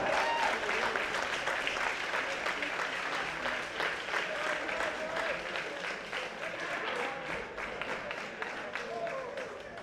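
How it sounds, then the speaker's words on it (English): Crowd applause for the hurling teams after the Clare U15 A final between Inagh Kilnamona and Sixmilebridge, sustained clapping with some background voices mixed in, fairly loud and continuous. "I'd like a huge round of applause for both teams today"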